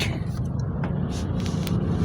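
Steady road traffic in Pasig during rainy weather, a continuous low rumble of passing cars and vehicles up close, fairly loud with no clear gaps.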